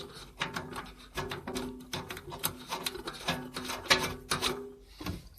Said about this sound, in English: So I'll take one screw just to put it in to get it started.